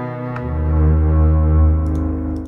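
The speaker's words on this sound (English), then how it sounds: "I found this double bass patch in the Orchestral Strings pack that comes with Ableton Live" Ableton Live Orchestral Strings double bass patch playing one deep, sustained bowed note that swells gently and rings on alone, without voices.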